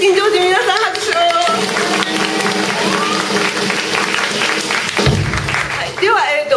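Crowd applause and clapping at a live tribute rock concert in a club, loud, dense and sustained throughout, with a voice briefly over it.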